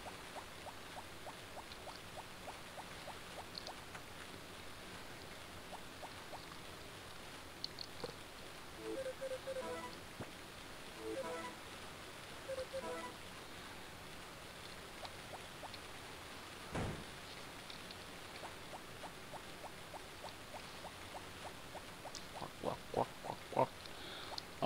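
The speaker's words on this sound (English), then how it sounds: "I also really like the rain sound" Steady rain hisses and patters throughout, a continuous wash of noise with occasional soft taps and clicks on top.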